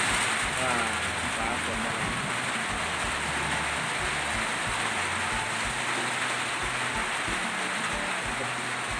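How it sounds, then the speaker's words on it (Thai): Rain falls steadily over a backyard garden at a rural home, a dense, even hiss of drops that stays close and constant throughout, with faint voices underneath. "ฝนตกแล้วได้พ่อฝนตกแล้ว"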